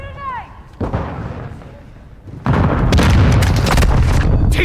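Gunfire in the video game Modern Warfare 2 comes as a loud, dense battle din of rapid shots and booms, building to a sustained roar of continuous firing.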